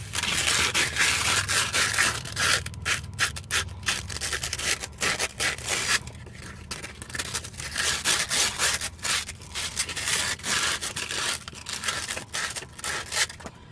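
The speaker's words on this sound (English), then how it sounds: "I got an 80 grit sandpaper for the studs that go to the shock and the hub, the spindle" Coarse 80 grit sandpaper scrubs hard against the hub and spindle studs on a Hyundai Tiburon V6, loud close gritty rasping strokes in quick bursts with brief pauses between.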